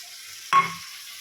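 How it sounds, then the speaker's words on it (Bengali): Spiced chicken kosha fries in a pan with a steady low sizzle, broken by one quick, louder scrape of stirring. "এবার মশলা মাংস ভালো করে কষাবো।"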